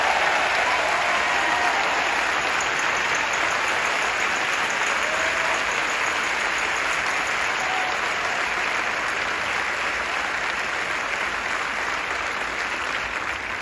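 A crowd gives a long, steady round of applause for Reverend Jesse Jackson at a political event, the clapping dense, loud and unbroken from start to finish.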